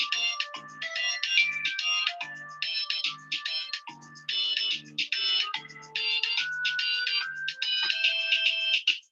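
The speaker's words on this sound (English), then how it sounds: "I got a new phone, so I'm trying to figure out how the timer works here." A new phone's timer alarm plays a bright, looping electronic ringtone melody in repeated short phrases, loud and clear with no talk over it.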